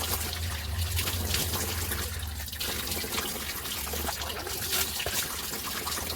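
Water runs steadily from a tap into a sink while someone washes their face, a continuous close trickle and splash holding at an even level throughout.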